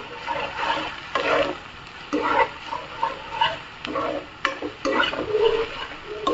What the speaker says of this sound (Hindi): जब ऐसा कलर एकदम लाइट गोल्डन ब्राउन नहीं हो जाता तब तक हम इसे अच्छे से भून लेंगे